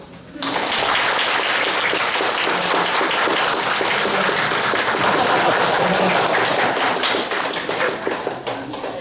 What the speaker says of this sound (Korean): 은혜로운 메시지 감사하는 의미에서 박수 한번